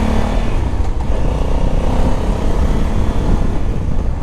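A 2020 Honda Africa Twin is ridden through the city, its engine a loud, continuous low rumble close up, mixed with wind noise.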